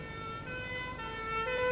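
A wailing emergency siren holds steady tonal pitches, growing slightly louder over a low background rumble of traffic.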